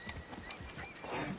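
Horse hooves clip-clop in the video game Assassin's Creed 3, a quick run of soft, close footfalls over faint background sound.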